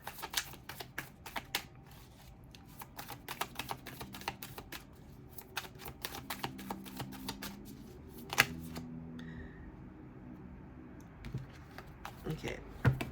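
Tarot cards shuffled by hand in a quiet room: a long run of soft, rapid riffling clicks and snaps, faint and close, with a few louder card slaps.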